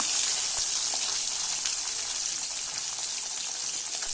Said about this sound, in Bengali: আমি আরেক দিক উল্টে 2 থেকে 3 মিনিটের জন্য ভেজে নিচ্ছি।